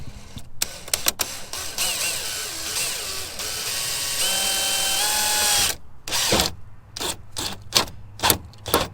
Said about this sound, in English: So we're gonna drill holes in the truck.